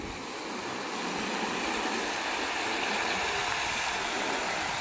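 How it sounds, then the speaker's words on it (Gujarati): Floodwater rushes through a Gujarat village after very heavy rain, a constant loud hiss and roar of flowing water that swells slightly at the start and then holds steady. "અત્યારે તમે જોઈ શકો છો એટલું બધું પાણી જઈ રહ્યું છે કે વાત જ ના પૂછો"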